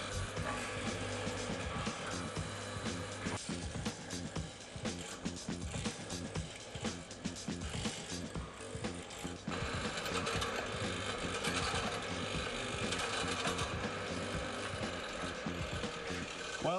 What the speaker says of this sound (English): So let's cut mortises out.